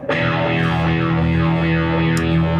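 A sustained, distorted guitar chord swept by a Solid Gold FX Lysis MK2 pedal's triangle-wave modulation, its tone rising and falling in regular, sharp-edged triangular waves.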